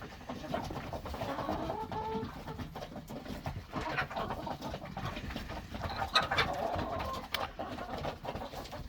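Ducks and chickens feeding together at a feeder, soft clucks and coos scattered over a low rustling background, fairly quiet and close, with no talking.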